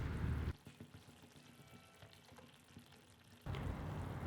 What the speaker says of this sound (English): We'll mix this well so that the cheese blends well with the sauce. And we will let them simmer for another 1 to 2 minutes.